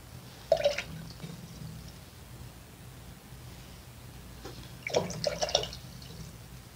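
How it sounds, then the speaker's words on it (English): A watercolor paintbrush rinsed in a water cup, with two short bursts of splashing and swishing separated by a quiet pause, close but soft. "Now I'm going to right now rinse out my brush"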